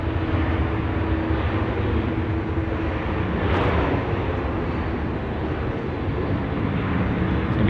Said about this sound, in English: we're just going to capture our Qantas A330 that's just arriving in from Honolulu